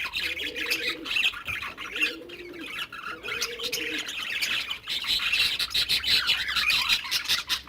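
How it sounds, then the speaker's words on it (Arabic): Pet birds squawk and chirp loudly and continuously while crowding to eat a creamed boiled-egg meal, with repeated harsh calls and softer coo-like notes throughout. "حتى الطيور الاخرين غادي يحاولوا يطلعوا ياكلوا"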